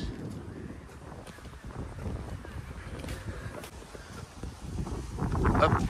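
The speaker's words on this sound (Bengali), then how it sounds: "বাহিরে অনেক ঠান্ডা এবং বাতাস।" Gusty wind buffets the microphone outdoors in a large, cold park in Ilford, with honking geese in the background and a voice now and then.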